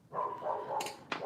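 A dog barks in a few sharp bursts, fairly close and loud, with a brief pause before a final yip.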